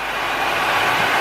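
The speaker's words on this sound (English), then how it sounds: "Gas coming out." Gas escapes from a system line on a Toyota Supra in a loud, steady, close rushing hiss that holds for the whole moment without a break.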